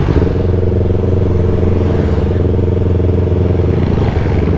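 A Yamaha R15 motorcycle engine drones loudly and steadily at close range on a breakfast ride, with a continuous throaty hum and slight clatter and no one speaking over it.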